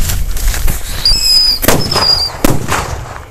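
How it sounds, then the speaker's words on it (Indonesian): Two Happy Power firecrackers go off together outdoors, loud close cracks and bangs with a whistling shriek between them, over a rough rumbling background. "selanjutnya kita menyalakan mercon happy power 2 sekaligus"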